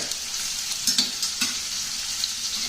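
Shallots sizzle in butter in a hot pan, a steady bright hiss with a few sharper pops and crackles scattered through, fairly close and with no one talking over it.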